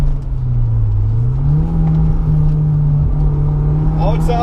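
Autocross car engine holding a steady drone that rises in pitch under acceleration through a slalom run, loud and close throughout, with a voice speaking over it.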